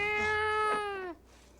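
A cat gives one close, clear, drawn-out meow that falls slightly in pitch at the end, then cuts off into quiet.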